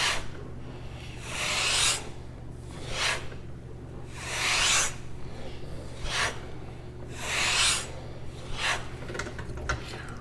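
A knife blade is drawn across an Arkansas natural sharpening stone in about five slow, rhythmic rasping strokes, close and fairly quiet over a low background hum.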